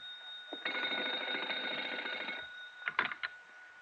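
A telephone rings in an old-time radio drama, one long bright jangling bell burst followed by a few shorter clipped rings, close and alone in a quiet scene.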